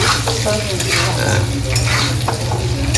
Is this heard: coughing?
no